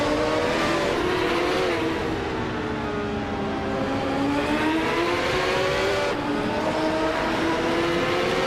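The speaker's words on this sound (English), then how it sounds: "Mighty Chunk is driving a Reynard 95i, which is known for its balanced handling." Race cars on a Chicago street circuit in a racing video game, including a Reynard 95i: continuous loud engine whine with rising and falling revs as cars accelerate and shift, filling the whole stretch.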